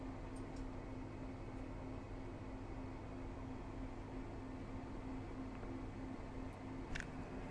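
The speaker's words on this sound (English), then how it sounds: "So we're running both air fryers and the air conditioner on heat, all from batteries" Steady broadband hum of an air conditioner running on heat alongside two air fryers, all powered by a lithium battery bank in an off-grid solar setup, constant and unbroken with a faint tick near the end.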